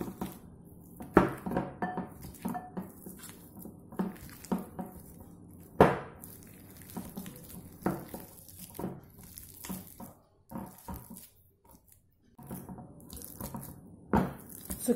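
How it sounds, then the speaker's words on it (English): Hot boiled potatoes being mashed in a bowl, giving repeated soft squishing thuds and clinks of utensil against the bowl at an irregular pace, close and moderately loud, with no talking. "Transfer the potatoes into a bowl and just mash them up while they are still hot."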